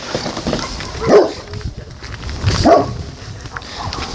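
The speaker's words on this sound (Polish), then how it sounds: "Pies na mnie szczeka." A dog barks twice at a moderate distance, two short bursts about a second and a half apart, heard on a street walk home from school against steady outdoor background noise.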